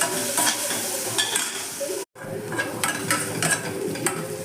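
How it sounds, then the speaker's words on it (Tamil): Bajji chillies sautéing in a pan for chutney, with a steady sizzle and repeated scraping stirs of a spatula against the pan, close and continuous with a brief gap midway. "பஜ்ஜி மிளகாயை இதில் போட்டு அப்படியே நல்லா வதக்கிக்கலாம்."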